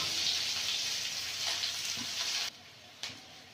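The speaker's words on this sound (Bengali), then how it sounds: "পেঁয়াজটা ভালো করে ভেজে নেব" Chopped onions fry in a pan with a loud, steady, hissing sizzle that drops off sharply near the end, then gives a brief flare before settling quieter, with no talking.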